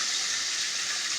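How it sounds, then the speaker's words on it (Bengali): Water streams steadily into a cooking pan of fish-head and cabbage curry with chili and turmeric powder, a brief, even, close gushing pour. "একটু জল দিয়ে দিলাম।"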